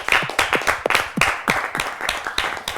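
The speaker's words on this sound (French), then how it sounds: "On peut les applaudir s'il vous plaît" A small audience claps in a rhythmic, fairly close burst, individual claps standing out distinctly and without any talking over them.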